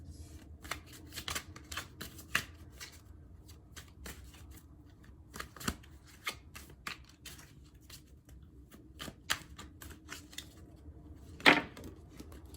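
A deck of tarot cards is shuffled and drawn in quiet, crisp riffling bursts and sharp snaps, close and soft, with pauses between them and one louder flutter near the end.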